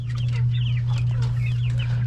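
Rhode Island Red chickens cluck and murmur in their coop, several birds overlapping in soft, quick calls over a constant low electrical hum, close by.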